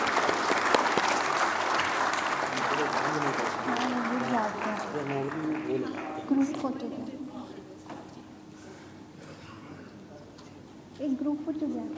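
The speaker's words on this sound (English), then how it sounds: "we would once again like to give a big round of applause to Honorable Mr. Justice Ravindra Bhatt" Sustained applause from a crowd at an international arbitration event fills the opening seconds, then fades as a voice speaks over the hall; a short burst of clapping returns near the end.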